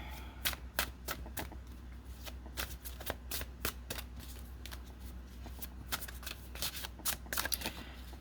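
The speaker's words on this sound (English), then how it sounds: "I just cannot shuffle this deck, so I barely use it" A tarot deck that is hard to shuffle riffles and flicks close by in quick, uneven bursts of sharp card snaps over a low steady hum, with no talking.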